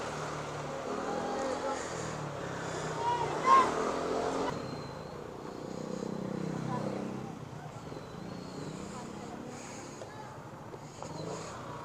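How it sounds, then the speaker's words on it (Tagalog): Road traffic heard from a moving motorcycle, with a continuous engine and wind rumble, passing vehicles swelling and fading, and a brief louder burst partway through. "Aray, ang traffic."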